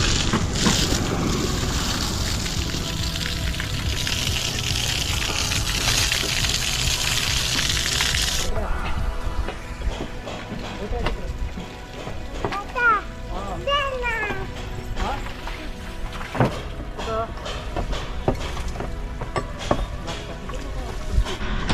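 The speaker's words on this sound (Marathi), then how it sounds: "लागलीच गाडी पण धुवून घेतली पाणी मारले आणि प्रियाश आता गाडी पुसतोय हाताने" A car is washed with a spray of water, a steady loud hiss of broadband rushing that cuts off partway, followed by quieter dripping, handling noises and background voices.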